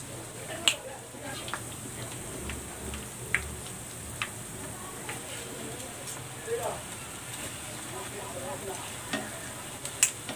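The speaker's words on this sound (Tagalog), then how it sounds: "nagpainit na ako ng mantika. Magpiprito na ako." Chicken sisig lumpia frying in hot oil, a steady low sizzle throughout with scattered small pops and clicks of handling, fairly quiet and close.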